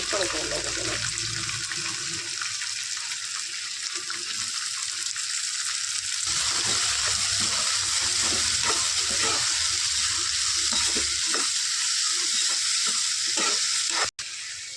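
Chopped onions and green chillies fry in hot oil, giving a steady, dense sizzle that runs nonstop, with faint scraping or stirring sounds over it.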